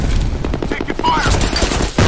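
Rapid gunfire rattles through a firefight in the shooter game F.E.A.R., a dense stream of shots and impacts mixed with other battle noise, with a muffled voice also present.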